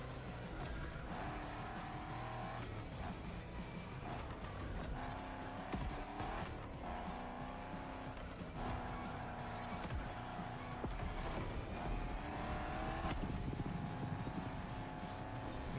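Racing through The Crew Motorfest, a car engine drones steadily and shifts pitch over about sixteen seconds, with tire noise and rising revs toward the end.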